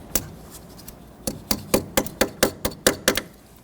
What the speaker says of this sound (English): On this top tab, I'm going to roll over, tap that down